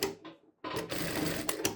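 A Rubina RB-9400E-D4 industrial straight-stitch sewing machine with automatic functions gives a short buzz, pauses briefly, then runs in a steady, close, whirring stitching burst with a couple of sharper mechanical clicks.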